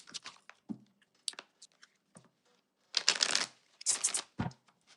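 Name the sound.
shuffling oracle cards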